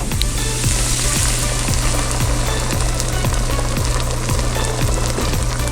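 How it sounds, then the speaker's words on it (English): Red wine poured into a hot brisket pan to deglaze it, a loud, steady hiss of sizzling with a faint regular scraping tick running underneath, close and continuous. "deglaze the pan with a little bit of red wine"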